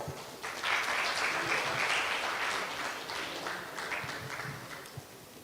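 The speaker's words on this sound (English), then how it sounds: "Can we have a round of applause?" Sustained audience applause fills a business conclave hall, a dense wash of many hands clapping that swells early and tapers slightly toward the end, with no voices over it.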